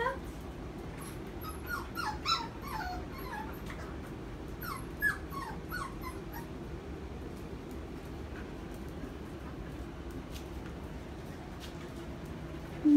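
Poodle puppies whimper and yip in high, thin bursts, clustered in the first several seconds with a few later cries, close and fairly faint over a steady low hum from air conditioning indoors.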